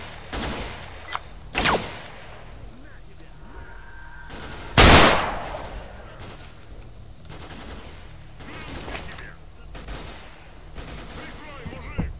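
Video game gunfire heard as a few sharp shots, one much louder close blast midway, over a constant background hum with scattered faint distant pops and no talk.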